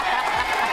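TV studio audience cheering and applauding after a children's television magic trick, a dense, steady roar of clapping and voices that stays loud and full throughout the short burst.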